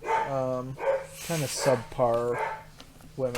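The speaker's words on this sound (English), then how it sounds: "I'm going to apologize if you can hear my dogs barking" Pet dogs bark indoors in a house, short sharp barks scattered under steady, close conversation that dominates throughout.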